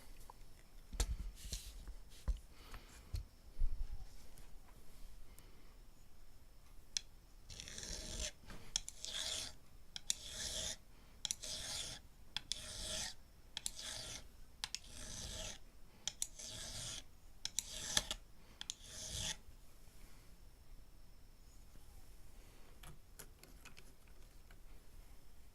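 Sandpaper rasps along the fret ends of a Black Limba custom Strat guitar neck in repeated back-and-forth strokes, a close, scratchy rhythmic filing that builds in the middle then settles into quieter handling clicks.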